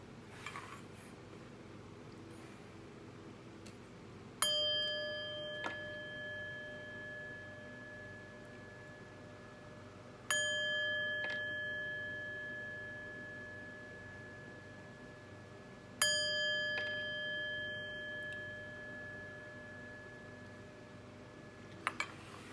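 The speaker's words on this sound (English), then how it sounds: "let's chime" A chime struck three times at even intervals, each a clear bright metallic ring with a long fading sustain over a quiet room, no voices.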